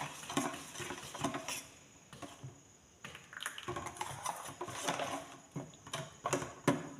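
Patisapta pitha batter is stirred with a little salt in a bowl, giving rapid irregular tapping and clicking of a spoon or whisk against the container, close and fairly quiet, no talking.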